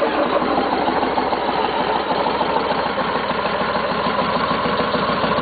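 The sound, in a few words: Yamaha Road Star Warrior motorcycle idling with new flat-back exhaust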